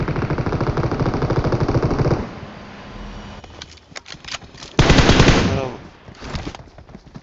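Gunshots in PUBG, a loud sustained burst of rapid automatic fire followed by quieter sporadic shots and a second sharp burst, close with some background game noise.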